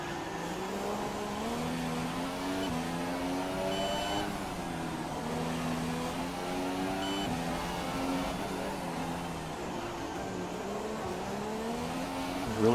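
A McLaren Formula 1 car in a racing video game lapping Albert Park, its high-pitched engine rising and falling steadily through gear changes over a long continuous stretch, heard close with no talk.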